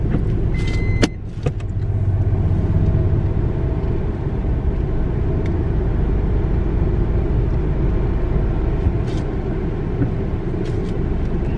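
A Maruti Alto 800 (2019) being driven, heard as a steady low engine and road rumble from inside the cabin with a brief knock near the start, continuous with no talking.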